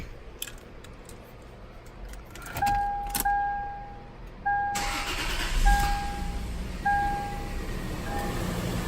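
Keys jangle and a car's electronic warning chime repeats before a Lexus IS300 engine cranks and catches, settling into a steady idle under the continuing chimes, with no talking.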